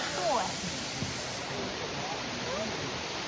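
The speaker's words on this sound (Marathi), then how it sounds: "असं वरतून पाणी पडतंय" Steady rushing water falling from above fills the scene, with a few brief voices faintly over the continuous roar.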